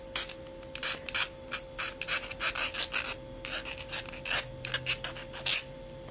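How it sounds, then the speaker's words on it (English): Rough edge of a textured sterling silver snake ring being sanded, a string of short rasping strokes in an uneven rhythm, close and fairly loud, over a faint steady hum. "just sand it down."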